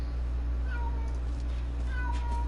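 A pet cat meows twice, with rising-falling cries separated by a pause, heard faintly over a steady low hum.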